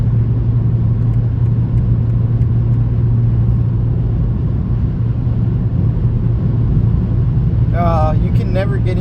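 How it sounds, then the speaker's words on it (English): A 2023 BMW M340i driven hard in sport mode on a night road gives a loud, steady, deep engine rumble throughout, and a voice rises briefly near the end. "You can never get enough of the sport mode in this car"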